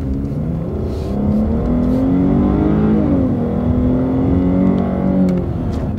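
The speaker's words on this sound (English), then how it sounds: "We'll give it some gas." A car accelerates away from a stoplight, its engine note climbing loud and close from inside the cabin, dipping briefly at a smooth gear shift before rising again in a steady, powerful drone.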